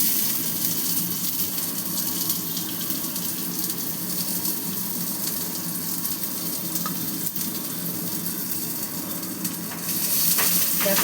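Chopped onion sizzling in oil with dried chillies for a taro-root dish, a steady moderate crackling hiss lasting several seconds with faint stirring, louder near the end.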